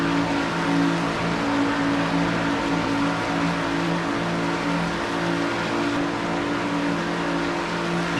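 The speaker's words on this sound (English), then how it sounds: "that's what it's like to ride in a pack 3 wide at 195 miles an hour at Talladega Super Speedway" Stock cars in a racing video game run three wide in a tight pack at about 195 mph at Talladega Superspeedway, a steady loud droning engine roar with layered whining tones, continuous and close.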